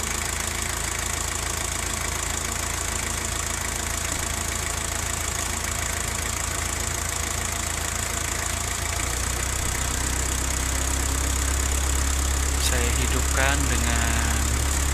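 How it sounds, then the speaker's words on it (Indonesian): A Toyota Land Cruiser BJ40 engine runs at high idle during a radiator flush, a steady, loud mechanical drone with some knocking texture, while a voice talks faintly over it near the end. "Dengan kecepatan high idle yang cukup tinggi untuk membantu sirkulasi."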